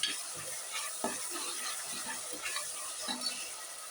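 Ginger garlic paste sautéing in hot oil in a pan for vegetable biryani, a steady soft sizzle with occasional stirring scrapes, close and continuous without talk.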